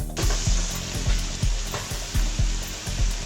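Minced meat frying on high heat for aloo qeema, a loud steady sizzle with rhythmic scraping strokes of a spoon repeating every half second, no voices.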